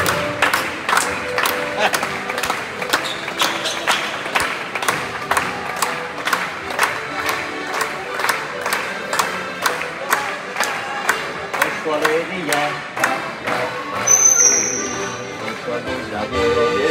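Audience applause at the 2024 Challenge de Saubrigues final: a crowd claps together in a steady, rhythmic beat for the full stretch, loud and close, with voices mixed in among the clapping.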